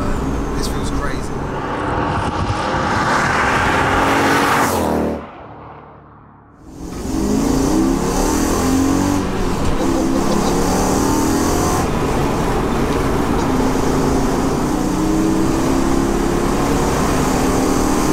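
A Mercedes C43 AMG track car with a swapped 5.5 V8 engine revs hard while driving, a loud, raw, sustained drone that rises and holds in pitch, dipping briefly as the driver lifts off before pulling again, with people talking over it.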